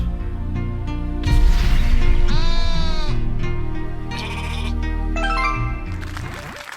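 Cartoonish sheep in the herding level of the video game Rain on Your Parade bleat several times in a row, loud and close, wavering baa calls over a light game soundtrack.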